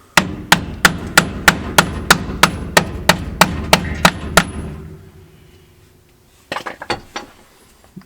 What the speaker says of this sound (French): Je vais casser le bout de bois.